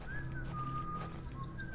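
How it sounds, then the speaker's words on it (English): A faint, thin whistled tune drifts in from a distance in the video game Hob's Barrow, sustained notes over a low ambient background with light chirp-like accents. "Oh, I can hear his whistling."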